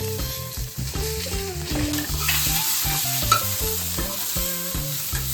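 Sliced onions sautéing in hot oil for a Malvani-style crab masala, with steady sizzling and repeated stirring scrapes in the pan, heard alongside background music.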